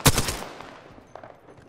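Rapid gunfire in the Apex Legends video game opens with a loud burst of shots and fades into scattered, softer pops and game noise, with no talk over it.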